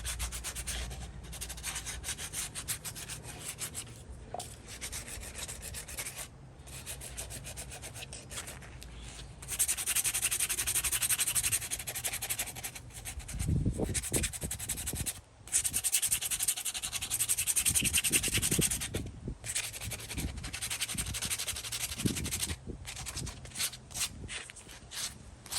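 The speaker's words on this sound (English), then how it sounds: "then sand it down a little bit and hit it" Hand sanding the housing of a Black and Decker 7004-1 drill, a flea market find coated in thick old paint, with steady close scratchy rubbing strokes running continuously and a few brief thumps of handling along the way.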